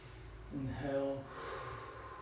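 A deep, slow breath is drawn in and pushed out during a stretch in a garage workout, a soft airy exhale with a faint voiced edge over a low background hum.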